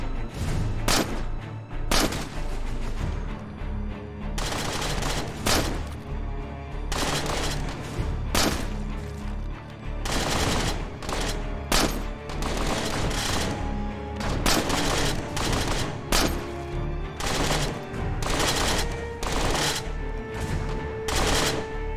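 Assault weapon gunfire in the State of Decay video game: rapid bursts of shots and booming reports crowd the mix nonstop, loud and dense with no pauses and no voices.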